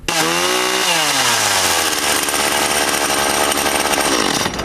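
A petrol chainsaw roars loudly and continuously close by, its engine pitch dropping as it settles from revving into a steady high idle, then cutting off at the end.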